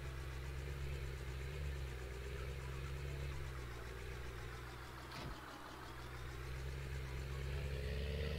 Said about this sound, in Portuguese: Agora vai o trator, ó.